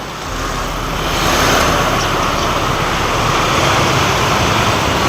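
Cars passing on a narrow two-way street in Bali, a steady close rush of traffic noise that swells after the first second and stays loud throughout, with no voices.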